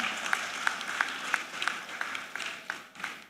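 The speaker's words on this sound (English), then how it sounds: "Please, with a round of applause, help me make welcome the pragmatic Pike." Applause welcoming a speaker at a finance summit for women-led small businesses: fairly quiet, thin clapping with a few distinct sharp claps standing out at a steady rhythm, sounding like a modest audience at some distance.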